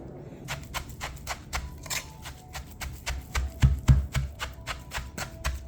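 Garlic and lemongrass paste is mashed into a fried striped bass dip, giving a quick series of sharp utensil taps against a bowl, steady and close, with a few heavier thumps midway.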